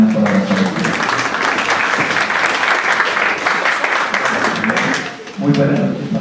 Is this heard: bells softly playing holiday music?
no